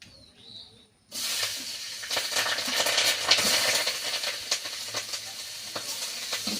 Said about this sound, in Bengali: এবার তেলে কাঁচা লঙ্কা আর পেঁয়াজ কুচি দিয়ে দিচ্ছি